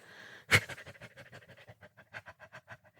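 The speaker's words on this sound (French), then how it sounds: "À haleter, un petit peu comme un petit chien." A person pants in short, rapid breaths like a little dog, starting with a sharp louder exhale and then a steady run of quick, close, breathy puffs with no talking.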